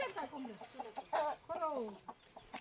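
Farm chickens cluck and squawk close by in a busy, uneven run of calls, with a few louder bursts in the middle and faint background murmur.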